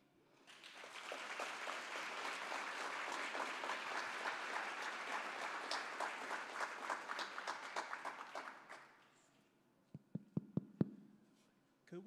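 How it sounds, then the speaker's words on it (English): A crowd applauds a city mayor at a public speaking event, clapping swelling in and holding dense and steady for several seconds before dying away, followed by a few loud isolated knocks near the end. "Could we have one more round of applause for Mayor Janet Cowell, please?"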